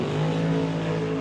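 A drag race car of the Canada West Doorslammers class roars past at speed on the strip, giving a loud, steady engine drone that fills the short moment.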